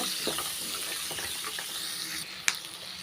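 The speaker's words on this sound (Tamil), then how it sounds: "சேர்த்துட்டு எல்லாமே நல்லா வதக்கிக்கிறலாம்" Onion, tomato, curry leaves and coconut sautéed together in a pan for chutney: continuous close sizzling with light stirring scrapes and a single sharp clink near the end, with no voices.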